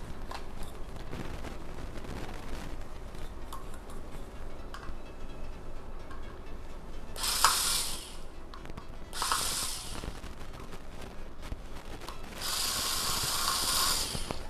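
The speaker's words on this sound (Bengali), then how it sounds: "দুটো স্ক্রুতে একটা স্ক্রু আমরা খুলে নিলাম।" A screwdriver backs screws out of an OTHO 9W inverter LED bulb, with faint ratcheting clicks followed by several bursts of sharp scraping and grinding, close up with no talk.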